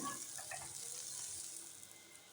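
Tap water runs steadily into a sink while kitchen vessels are washed, a short continuous splash and hiss with a few faint clinks near the start.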